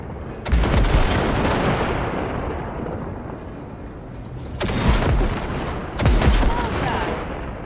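Heavy gunfire blasting car wrecks in the Cyberpunk 2077 video game, a sustained roaring barrage with three sharp loud bursts standing out, close and continuous throughout.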